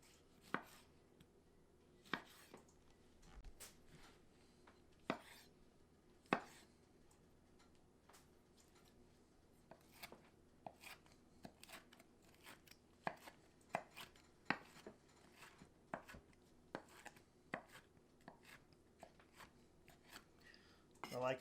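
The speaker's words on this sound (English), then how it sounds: "Next is the tomato. Slice these up into nice chunks." A knife cuts tomatoes into chunks for a Dutch oven taco pie, making irregular, sharp taps on a cutting board at a moderate, fairly quiet level with pauses between strokes.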